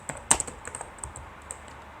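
Key clicks sound as an equation is typed on a computer keyboard, an uneven burst of close, crisp taps with a few harder strokes. They fade toward the end with no talking.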